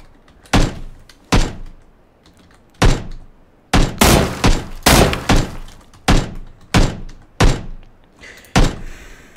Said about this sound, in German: ich würde gerne schießen, aber ich schieße voll gegen diese blöden Latten im Fenster